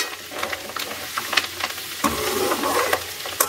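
Ghee cooking down from collected milk cream in a pan on the stove, crackling and spluttering steadily with sharp popping bursts scattered throughout, close and fairly loud.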